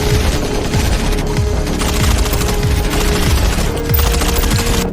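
Gunfire erupts in a fierce firefight with bank robbers inside a bank. Dense, rapid bursts of shots overlap continuously, loud and relentless, like automatic weapons mixed with single shots.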